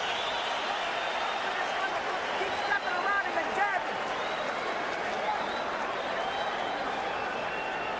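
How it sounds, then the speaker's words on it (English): Arena crowd at a Fernando Vargas vs Ike Quartey boxing match rising and cheering in appreciation of a late-round flurry, a steady broad roar with scattered clapping under a commentator's voice. "the crowd rises in appreciation of the action"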